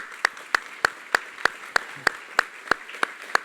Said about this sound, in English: So we can give them a quick round of applause for that great work.